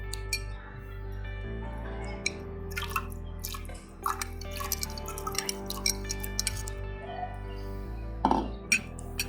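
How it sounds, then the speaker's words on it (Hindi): Pomegranate seeds dropping into a pan of water for tea, giving scattered small drips, splashes and glassy clinks over a steady low kitchen hum, with a louder splash near the end. "अब इस पानी में अनार डाल लें।"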